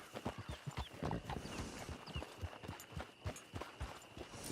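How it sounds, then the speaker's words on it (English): Horse hooves clip-clopping in the video game Red Dead Redemption 2, a quick, regular run of close hoof strikes with a faint musical tone underneath and no talk. "It's your horse."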